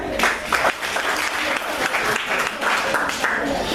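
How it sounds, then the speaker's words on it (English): Audience at an annual general meeting claps steadily in a sustained, loud round of applause filling the room, with a voice faintly audible underneath. "can you clap hands for the gentleman?"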